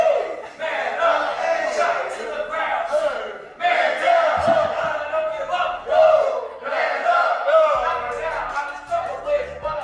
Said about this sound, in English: I was not expecting this crowd reaction